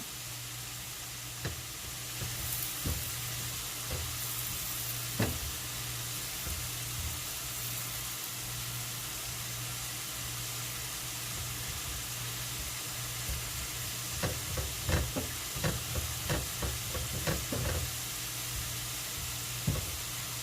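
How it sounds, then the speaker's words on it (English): Ginger sizzling and simmering in hot oil in a pan for salt and pepper wings, a steady loud frying hiss with a few scattered stirring knocks and clatters, busier toward the end. "And I'm going to put the ginger in there. And then let that simmer for a second."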